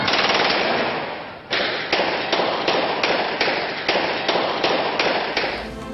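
Aerial gunfire at a street scene in Sialkot, rapid repeated shots cracking in loud dense bursts with short pauses, continuous and close for the whole stretch.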